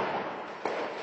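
Ammunition depot in Afrin exploding continuously, a dense crackling roar of blasts with sharper bursts punching through, heard from a distance and loud.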